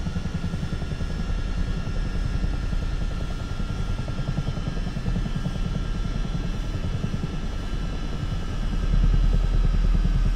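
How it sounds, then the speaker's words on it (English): Airbus H125 helicopter engine in Microsoft Flight Simulator 2024, a steady close whine and rapid rotor chop, with a steady high tone, continuous throughout and growing slightly louder near the end. "Look, you can hear the engine powering down again."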